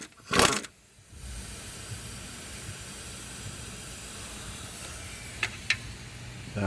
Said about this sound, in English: That steam you see is just from the coolant.